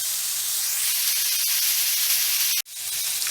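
Chopped cheese beef patties sizzle steadily in a pan over medium-low heat, a dense, constant hiss that holds close and loud, broken by one brief drop near the end.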